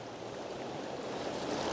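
A big river pool rushes along in a steady, broadband wash of flowing water, continuous and fairly close, with no voices.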